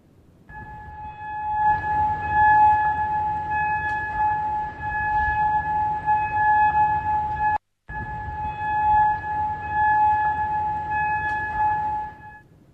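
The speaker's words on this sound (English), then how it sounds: "sirens have been sounded in Kuwait as well" Steady wailing civil defense air raid sirens in Kuwait hold a sustained tone across the whole stretch, loud and continuous, with one brief dropout partway through.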